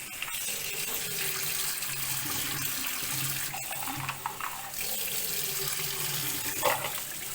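Tap water runs steadily into a sink while ceramic CO2 aquarium diffusers are rinsed under it, a continuous moderate splashing gush with small changes as items move through the stream.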